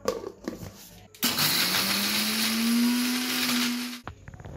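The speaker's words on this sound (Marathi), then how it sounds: "आता आपण या चटणीला थोडंसं वाटून घेऊया, त्यानंतर आपण थोडं पाणी घालून पुन्हा वाटून घेऊया।" A kitchen mixer grinder whirs loudly as it blends a South Indian red coconut chutney. The motor starts abruptly, holds a steady rising whine for about three seconds, then cuts off, with brief quiet sounds before and after.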